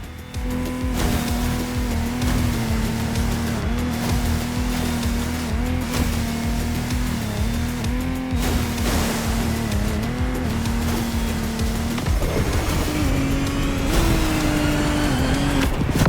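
High-powered Lamborghini Technomar racing boat engines in a racing video game, a loud continuous droning roar with steady pitch that shifts and climbs near the end, over rushing water spray.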